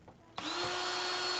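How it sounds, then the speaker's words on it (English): An electric drill starts up abruptly after a quiet moment and whines steadily at high speed, boring a small pilot hole in an arcade cabinet, close and loud with no talking. "I just drilled two small pilot holes using a drill"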